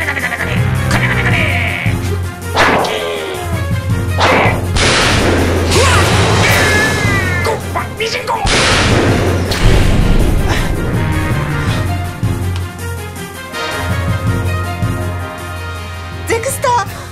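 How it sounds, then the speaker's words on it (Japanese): Bomb explosion sound effects in a tokusatsu web drama, loud booming crashes with sharp impacts and debris-like noise, mixed with shouting voices and dramatic music. "ゼクスター、 ドロシー、シャロン、爆弾があるんだ、離れろ"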